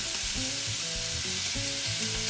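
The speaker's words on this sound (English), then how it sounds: "You want caramelized garlic, not burnt garlic." Garlic fries in a hot pan for beef pares, filling the clip with a loud, dense, unbroken sizzle and crackle, with no talking.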